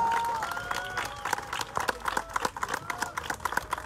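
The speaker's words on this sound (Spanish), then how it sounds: "Un fuerte aplauso a todos por estar aquí en este gran día." A crowd at an outdoor neighbourhood campaign rally applauds, a busy spread of many claps and scattered cheers mixed with voices and background chatter, moderately distant.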